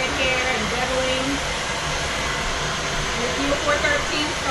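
A hair dryer runs continuously, a steady airy whir with a faint tonal hum, holding an even level throughout without any speech.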